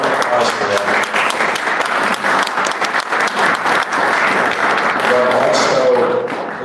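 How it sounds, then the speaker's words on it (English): Church audience at a service in Clarks Summit gives sustained applause for the volunteers live-streaming the event, dense clapping from a crowd, loud and continuous with a few voices mixed in. "round of applause for them"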